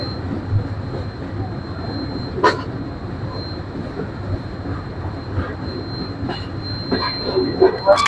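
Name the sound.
train travelling from Natore to Hili border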